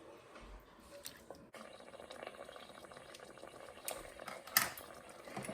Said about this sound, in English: let's put 2 tins in for now. And let that simmer for a couple of minutes